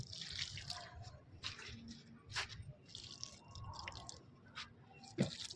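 Water trickles and drips onto the soil of an eggplant in a grow bag, giving small wet splashes and squishy patters at close range, faint and uneven, with occasional louder drops.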